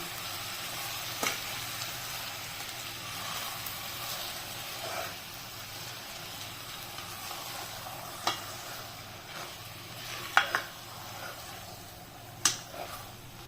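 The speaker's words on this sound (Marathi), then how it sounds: "आता आपण ही कलेजी आहे मॅरिनेट केलेली ती ह्याच्यात घालून घेऊया आणि हे चांगलं परतून घेऊया।" Marinated chicken liver sautés in a pan for a spicy kaleji masala, giving a quiet, steady sizzle with occasional light stirring clicks and scrapes and no voices.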